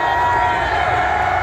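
Crowd at a metal concert at Ozzfest meets Knotfest in San Bernardino, shouting a chant together in one loud, dense, sustained roar.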